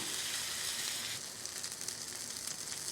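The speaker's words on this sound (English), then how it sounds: "Now we'll cook it for about 90 seconds before we flip it." A thin burger patty frying on a hot surface gives a steady, bright crackling sizzle, close and fairly quiet, easing slightly after the first second and continuing without any talk.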